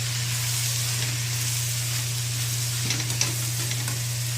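Salted onions sauté in a pan for mutton curry, giving a continuous close sizzle with occasional spatula stirs and a low steady hum underneath, no voices.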